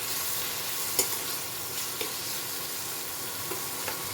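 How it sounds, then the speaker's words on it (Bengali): Spices frying in a pan for a Bengali thor ghonto (banana stem curry), a steady close sizzle with a few sharp scrapes of stirring, no talk. "আর একটু মশলাটা ভেজে নিই।"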